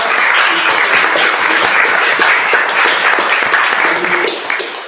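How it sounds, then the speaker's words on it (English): Dense, sustained applause from a seated audience at a seminar on digital twins, loud and steady for nearly the whole stretch before thinning out at the end. "I would say a big applause for our"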